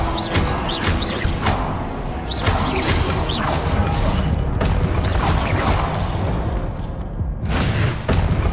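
Confringo blasting curse explosions in a Harry Potter video game, a loud sustained stretch of booms, crashes and whooshing debris with sharp cracks throughout.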